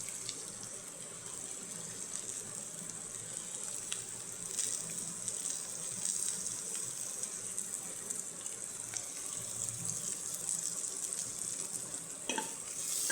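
Potato gravy with turmeric bubbling and sizzling in a pan, a continuous wet hiss with occasional soft spoon scrapes and knocks, close by and without talk.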